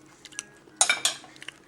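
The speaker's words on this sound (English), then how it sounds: "Just going to cut down the bone there." A knife cuts down the bone of a freshly roasted chicken, giving a few short scraping, clicking sounds against the carcass and plate, with a brief louder burst of crunching and scraping midway, close and fairly quiet.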